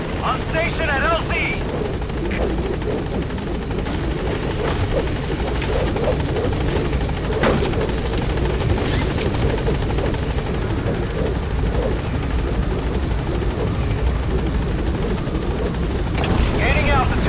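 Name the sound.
helicopter arriving in video game Metal Gear Solid V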